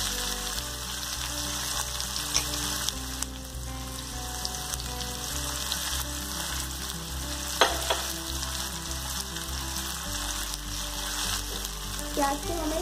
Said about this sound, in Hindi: अब इसमें हम बारीक कटे हुए प्याज डालेंगे